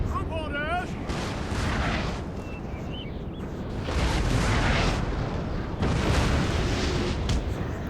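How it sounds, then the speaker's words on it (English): Cannon fire from horse artillery in a gunpowder-era warfare video game: heavy booming blasts roll out in several waves over a constant battle din, with a voice speaking over the start. "time to switch up to cannon fire for these bastards."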